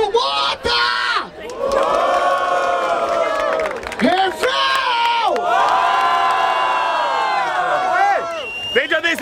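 A crowd at a Brazilian rap battle in Barueri roars with loud cheering and shouting in long surging waves, dipping briefly between bursts, close and dense throughout.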